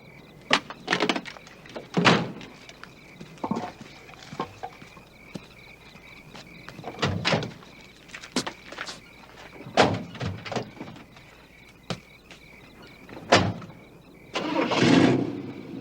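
A car door shuts and an engine cranks and starts, a few close thuds and bursts in a quiet scene with sparse background noise, no talk.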